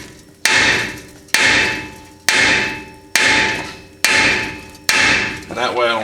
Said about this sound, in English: So I'll put this hammer here and I'll hit this with another hammer.